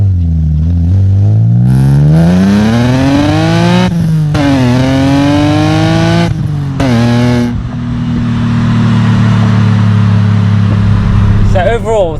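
A BMW E36 M3 with an S50B32 engine, Supersprint manifolds and exhaust revs up through several sweeping pulls, the note climbing and dropping between throttle blips before settling into a steady, fairly loud idle.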